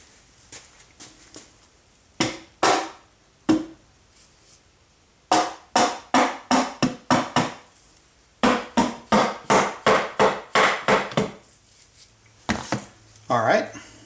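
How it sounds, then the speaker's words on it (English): Dead blow hammer tapping on a 1999 Jeep Grand Cherokee Laredo 247 transfer case, a series of sharp, close, dull knocks in quick uneven runs with short pauses between groups, plus a faint voice. "So I'm going to just give it a little tap with a dead blow hammer."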